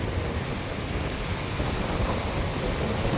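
Stormy sea at Jaffna, with rough waves surging against the shore and strong wind buffeting the microphone in a steady, loud, unbroken roar, with no voices.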